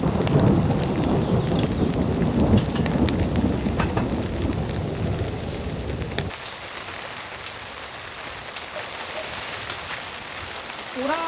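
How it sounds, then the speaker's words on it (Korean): Heavy rain and thunder while car camping in a forest 500 metres up a mountain, a loud rumbling downpour that drops sharply partway to light dripping and scattered drops, with no talk. "이제야 비가 살짝 좀 잦아든 것 같아요."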